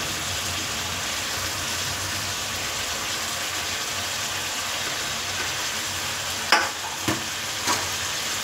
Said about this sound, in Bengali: তো এই মশলাটাকে ভালো করে কষাবো।